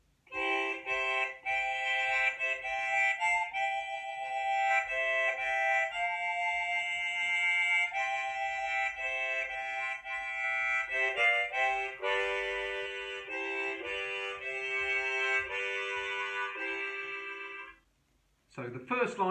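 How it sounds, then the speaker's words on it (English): Harmonica playing Michael Row the Boat Ashore in chord melody style, full layered reedy chords holding and shifting steadily, close and loud, alone until it stops near the end. "And played with chord melody,"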